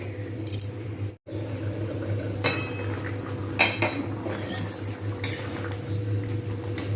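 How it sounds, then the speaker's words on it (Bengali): A metal lid is set onto a cooking pot of Bengali potato and green pea curry, giving several scattered clinks and light metallic knocks over a low steady background hum. "এবারে আমি ঢাকনা দিয়ে রেখে দেবো।"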